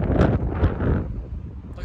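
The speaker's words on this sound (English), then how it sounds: "and it is so windy." Strong gusting wind buffets the microphone on a mountain bike trail in Boulder, Colorado, a loud, continuous roar with no talking.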